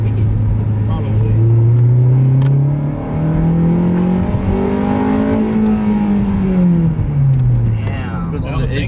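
An Acura RSX engine revs hard and loud nearby, its pitch sweeping up and falling back over several seconds with a sustained roar, while people talk excitedly over it.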